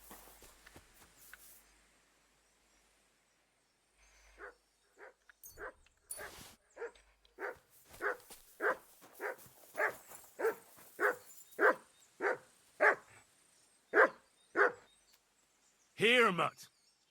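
A dog in the medieval game Kingdom Come Deliverance 2 barks in a steady run of about a dozen sharp, evenly spaced woofs, close and loud, followed by a final whining yelp after a quiet start with faint footsteps.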